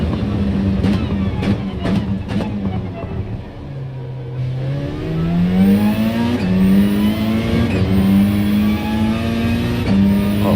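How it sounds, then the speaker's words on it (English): A race car engine at the Red Bull Ring rises and drops in pitch through repeated gear changes while braking into a corner, loud and close, with shifts audible as sharp steps in the drone, then revving steadily on. "now listen to the gear changes and how long I stay in 5th gear when I'm braking"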